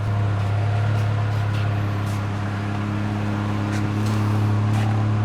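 Car engine idling roughly and sputtering as years of carbon and mineral buildup are cleaned out through the exhaust, a steady close low drone with uneven choking pulses throughout.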